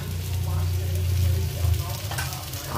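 Pumpkin sizzles softly in a pan over a low, steady hum, with a brief stirring scrape partway through.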